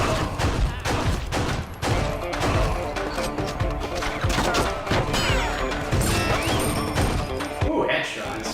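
Gunfire from a gunslinger shooter game, Red Steel 2, as shots land on enemies including a headshot: dense repeated bangs and crashing impacts over a busy game soundtrack, with someone talking over it.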